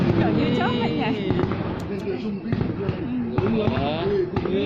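Fireworks bursting at a 2018 New Year display in Chợ Rã town, Ba Bể district, Bắc Kạn province, heard from far off as dull booms beneath steady crowd chatter and nearby voices talking throughout.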